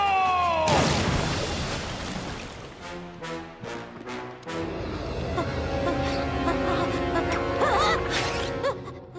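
A cartoon dragon cannonballs into lava with a loud crashing splash, followed by bubbling, popping lava and scattered cartoon effects over a steady background.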